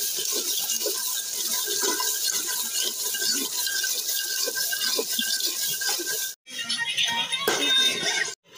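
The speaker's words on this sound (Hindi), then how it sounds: "देखिए पानी हम रख लेते हैं" Water pours steadily into a pan for a fish curry made with 1.5 kg of fish, a continuous rushing splash that stops abruptly, then resumes briefly.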